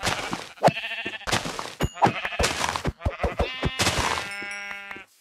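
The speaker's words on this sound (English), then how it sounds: "I do see some sheep out there" Sheep in a video game bleat several times, loud wavering cries close by, with short gaps and a few thuds between them and no talk.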